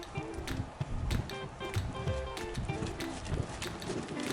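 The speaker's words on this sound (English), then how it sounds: "And then we're just going to have a trot down the centre line." A horse trots down the centre line of an arena during S-bend schooling exercises, its hooves beating a steady, close clip-clop rhythm that runs through the whole stretch amid low background rumble.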